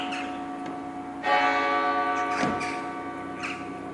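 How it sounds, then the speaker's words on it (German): Church bells ring in Besigheim, Germany, with sustained, strongly resonant metallic tones swelling in a few struck pulses and decaying over a steady ringing drone. "Auch am Klang der Kirchenglocken kann man hören, dass es in Besigheim einen sehr guten Wein gab."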